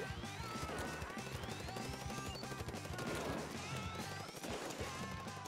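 Ink weapons firing during an online Splatoon 2 match, including an E-Liter 4K charger, a dense game mix of repeated splattering shots and impacts over music, faint and continuous.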